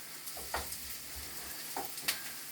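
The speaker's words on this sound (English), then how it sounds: "And that's the onion for the curry sauce. Stir it around a bit." Onion for a curry sauce fries quietly in a pan, a low steady sizzle broken by a few soft scrapes as it is stirred around.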